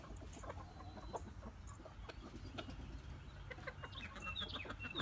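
Backyard chickens and roosters clucking nearby as they gather for pieces of bread, with a steady busy farmyard murmur of overlapping clucks and brief bird calls, no talking.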